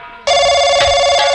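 Telephone bell ringing loud and steady, a continuous electronic ring that starts abruptly and holds, with a couple of faint bumps in the background, during a jail-set comedy stage performance.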